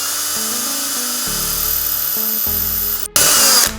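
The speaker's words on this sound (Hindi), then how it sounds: "और होल करने के लिए हमारे पास ये ड्रिल बिट है" A drill bit boring a hole during a homemade room heater build, a loud steady high whine under faint background music that breaks off briefly near the end before the drill spins back up.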